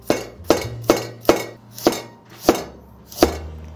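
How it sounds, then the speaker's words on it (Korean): A knife chops carrots and onions on a cutting board: seven sharp, evenly spaced chops, close and loud, with quiet pauses between them. "당근, 양파만 썰어 주시면 되는데"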